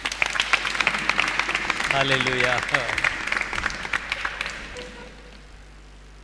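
Applause from a church congregation at a Hindi-language Christian gathering in Goa, a dense patter of clapping mixed with voices and a sung hallelujah, fading toward the end.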